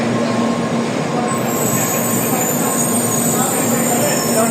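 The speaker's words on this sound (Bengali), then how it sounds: "ষোলো কারের বুলেট ট্রেন" A sixteen-car Japanese bullet train rushes past at high speed, a loud continuous roar of wind and rail noise with a faint high wheel whine, steady and close throughout.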